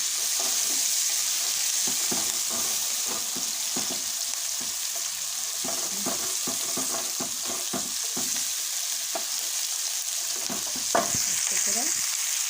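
Hot chili peppers and bell peppers are stir-fried together with garlic in a pan, giving a steady sizzle with repeated scraping and clattering of the spoon close by and no talk.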